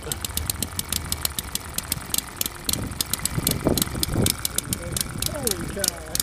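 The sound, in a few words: small model engine running after starter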